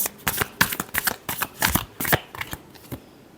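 A deck of tarot cards is shuffled by hand, close up, with a rapid series of crisp riffling flicks in uneven bursts that fade near the end.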